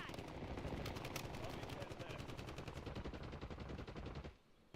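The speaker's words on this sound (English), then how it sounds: "look at all of that shooting" Rapid automatic gunfire in a shooting video game, a dense stream of bursts that cuts off near the end, loud but slightly distant and layered, with no voices.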